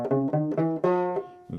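A handful of evenly accented banjo notes all plucked with the thumb in a brisk, even rhythm, close and clear, followed by one more pluck at the end.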